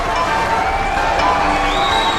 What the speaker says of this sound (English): AKASUKI coming out to a standing ovation here from the crowd